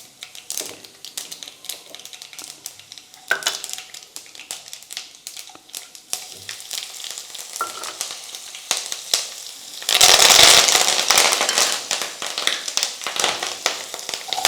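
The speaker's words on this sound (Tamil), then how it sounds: "எண்ணெய் சூடாயிருச்சு. கொஞ்சம் கடுகு போட்டுக்குவோம், சீரகம், கொஞ்சம் பெருஞ்சீரகம்," Mustard seeds, cumin and fennel hit hot oil and sizzle, with dense crackling pops and spitting bursts over about fifteen seconds that swell into a louder hiss partway through, heard close up.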